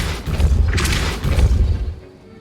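A Depulso spell cast in Hogwarts Legacy lands as a heavy, booming burst of force with a thudding swell. A second surge follows, then it fades out.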